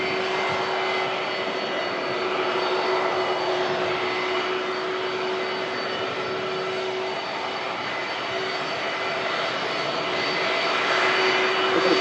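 An Airbus A350 jet departing from Manchester Airport gives a loud, sustained engine roar with a steady whine, continuous throughout and slightly building at the end.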